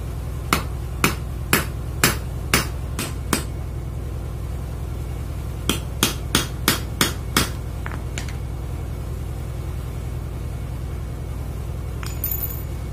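Hammer strikes on a nail punching holes for a homemade toy hadroh frame drum: two sharp bursts of about eight evenly spaced metallic taps each, close and loud over a low steady hum, no talking.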